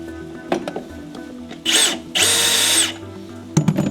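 A power drill removes screws from a Porsche 944 dashboard, whirring in two bursts, one short and one longer, close and loud amid clicks and knocks of handling.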